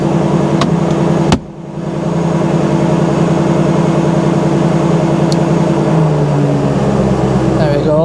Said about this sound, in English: I do like the sound of a V8 engine